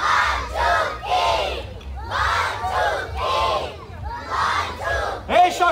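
Children at a clown show shout and scream together in repeated loud bursts, a crowd of young voices rising and falling close by.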